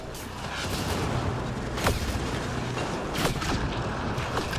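Gunfire and explosions in Mass Effect: Andromeda combat near a mini boss, a dense roar of noise punctuated by a couple of sharper shots, fairly loud and continuous.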